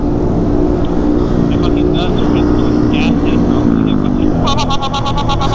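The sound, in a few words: motorcycle engine while riding and doing wheelies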